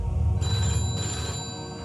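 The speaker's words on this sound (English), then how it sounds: "the telephone was ringing, and it continued to ring each time I answered it" A telephone rings steadily at a police station in Llandrillo, Wales, amid an alarmed flood of 999 emergency calls. The tone is loud and close, and it keeps sounding without any talk over it.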